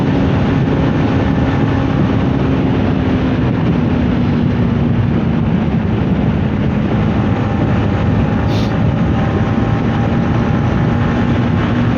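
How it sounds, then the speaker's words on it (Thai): Strong wind rushing against a rider on an MT15 motorcycle cruising near Chum Phae in Chaiyaphum, Thailand: a loud, continuous roar and buffeting that fills the whole stretch without a break. "ลมมาปะทะกับตัวเต็มๆเลยนะครับ"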